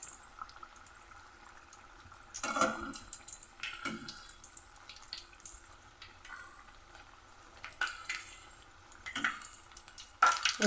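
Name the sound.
deep frying ajwain bajji in oil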